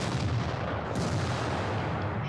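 A T-34-85 tank cannon fires at an IS heavy tank in World of Tanks: one sharp, loud blast that rolls into a dense, continuous rumble for the full two seconds.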